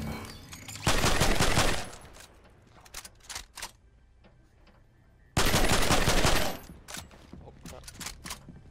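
Automatic gunfire from the Fortnite battle royale game comes in two long, loud sustained bursts with scattered single shots between them, and players talk over the gameplay.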